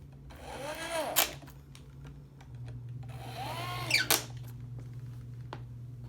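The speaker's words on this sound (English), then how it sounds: "put the pocket screws in the pockets and tighten them up" A power drill drives pocket screws into a wooden mobile workbench frame in two whirring bursts, each rising in pitch and ending with a sharp squeal as the screw seats, over a steady low hum.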